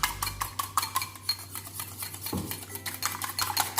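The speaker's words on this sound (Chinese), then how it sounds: "这个鸡蛋给它融合在一起，搅拌均匀，鸡蛋跟牛奶的搭配" Egg and milk whisked together in a bowl with a metal utensil, giving quick repeated clinking and scraping strokes against the bowl, close and steady with a low hum underneath.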